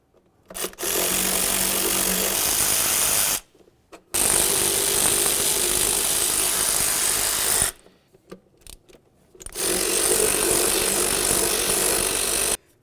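A 10mm tool ratchets out throttle body mounting bolts on a Dodge Journey in three long bursts of rapid clicking, close and loud, separated by short silences.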